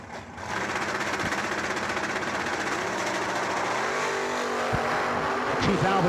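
A 1967 Camaro drag racing car launching at a door car event, a loud sustained engine roar right after a brief quiet start, holding strong with a rising whine near the end.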